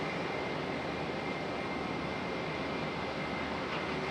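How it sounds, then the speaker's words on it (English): A JetBlue Embraer E190 arriving from Boston at Raleigh-Durham International Airport makes a dense, steady jet roar at a constant loud level with a faint high whine, with no talking over it. "Next up is JetBlue. Coming in from Boston on an E190 AR."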